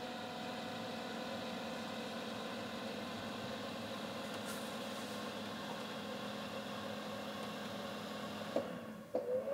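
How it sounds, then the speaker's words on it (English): Fan of a homemade two-element knife tempering oven running as a steady, even whir and hum, with a couple of small clicks near the end. "You maybe hear the fan fire up there."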